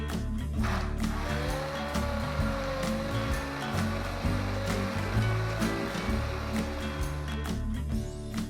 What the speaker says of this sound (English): Now using a hand blender, I'm going to blend the entire mixture.